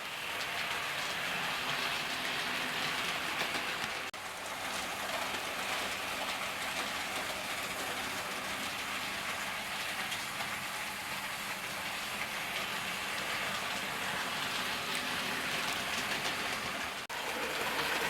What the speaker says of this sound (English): This loco's running fine over all types of track.